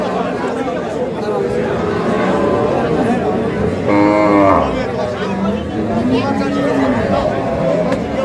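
Dairy cows and calves of Sahiwal, Sindhi and local breeds at a busy rural cattle market, with a low moo rising briefly amid constant crowd chatter and close talking.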